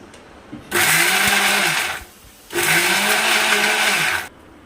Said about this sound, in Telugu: అన్నీ మెత్తగా మిక్సీ పట్టుకున్నాం